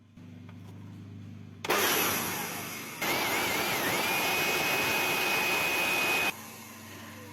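A repaired leaf blower with a universal motor whines up abruptly, briefly eases, then surges to a loud, steady high-pitched roar for a few seconds before cutting off, leaving a low hum.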